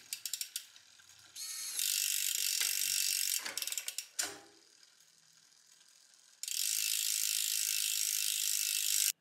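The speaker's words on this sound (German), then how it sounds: "Schalten wir mal ein paar Gänge weiter runter." A wireless rear derailleur on a rebuilt road bike shifts across the cassette in a workshop, clicking through several gears with ratcheting freewheel buzz that starts and stops in bursts, close and clear with no talking.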